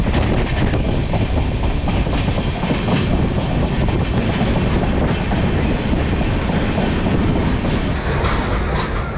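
Train 12685 from Chennai Central to Calicut rolls along the tracks near Ambattur, with a loud, continuous rumble, rhythmic clickety-clack of the wheels and faint squeals, heard up close from on board.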